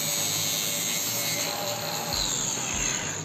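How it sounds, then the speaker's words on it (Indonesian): A handheld angle grinder whines steadily as it cuts PVC trim during a bedroom ceiling renovation, with a loud continuous buzz and a couple of dips in load near the end. "langsung kita potong menggunakan gerinda tangan"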